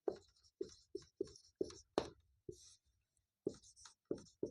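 Chalk or marker strokes on a board during a maths lesson, a quick series of short scratchy taps and strokes in a steady rhythm with brief pauses, close and fairly clear with no talk.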